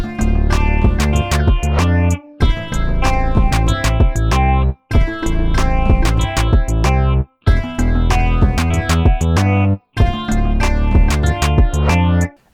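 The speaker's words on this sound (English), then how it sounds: "Just gives you a nice repetitive pop riff." A repetitive guitar riff played on two strings, bright plucked notes in a steady looping pattern, each phrase separated by short pauses, no voices.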